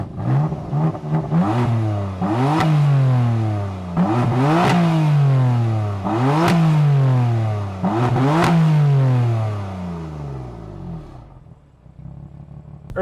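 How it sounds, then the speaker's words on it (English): A BMW F80 M3 accelerates hard through repeated gear changes, each pull rising in pitch before a sharp shift drops it back, five loud surges in a row before the engine settles toward a low rumble. "So let's risk it all, take this car out for a drive."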